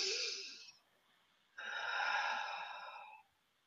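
Two slow, deep breaths taken during a guided meditation, each a long, airy, close-up exhale with a soft wheeze, separated by a brief quiet pause.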